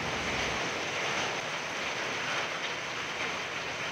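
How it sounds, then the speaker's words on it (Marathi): Heavy rain falls in Dapoli, making a dense, steady hiss of water that stays constant and fills the scene with no voices. "आज सकाळपासूनच दापोली आणि परिसरामध्ये जोरदार पावसाने हजेरी लावली आहे"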